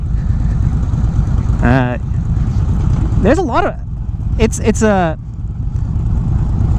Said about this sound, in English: in sport mode, and exhaust, man, that thing is throaty